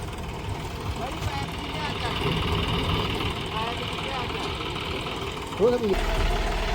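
A tractor engine idles and runs steadily on a Punjab farm, a low continuous rumble with a slight knock, heard close and at a constant level throughout.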